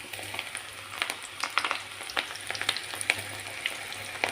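Onion pakoda batter frying in hot oil, a steady crackling sizzle with frequent sharp pops and bubbling bursts, close and fairly quiet, with a low hum beneath and no voices.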